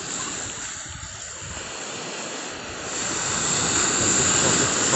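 Mediterranean sea waves wash steadily onto a beach, a broad continuous rushing surf with wind noise on the microphone that swells slightly louder toward the end.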